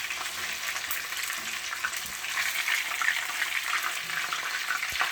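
Fish frying in hot oil for Jamaican brown stew fish, a continuous bright crackling sizzle with scattered pops, steady and close, no voices.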